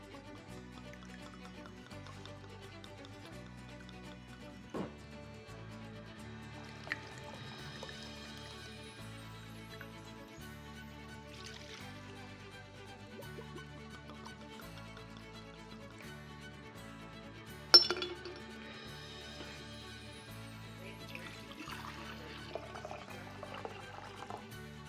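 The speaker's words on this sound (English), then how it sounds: "I'm gonna put 2 cups of the vanilla vodka, 2 cups of the Captain Morgan spiced rum, and then 750 milliliters of the EVERCLEAR" Vanilla vodka, Captain Morgan spiced rum and Everclear pour into a container with a quiet, continuous liquid gurgle and trickle. A few faint clinks of glass sound, including one sharper knock late on. No voices.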